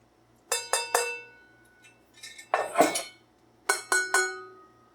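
Three bright metallic rings from a pre-1968 Revere Ware copper clad skillet being tapped, each with a ringing decay, in two groups separated by a softer clatter of metal in between.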